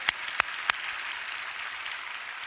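Audience applause at a church prayer meeting rises after three sharp claps, a soft, even patter of many hands clapping at a distance.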